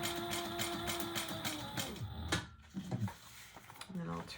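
A sewing machine top-stitches a folded bag seam in a quick, rapid needle rhythm, then stops, followed by faint handling and clinking sounds.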